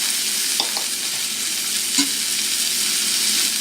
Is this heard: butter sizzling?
yes